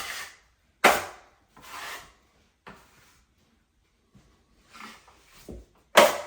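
A drywall knife skims joint compound over a large sheetrock patch, giving short scraping swipes separated by quiet gaps, close and fairly loud, with no talking.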